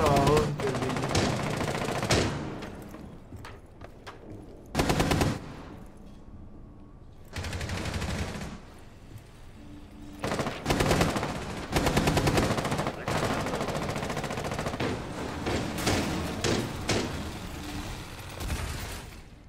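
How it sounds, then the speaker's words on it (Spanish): Automatic and single gunfire in a ranked Rainbow Six Siege match comes in loud bursts separated by short lulls, sharp close shots mixed with rattling volleys over about twenty seconds, with no voices over it. "Le están disparando feo."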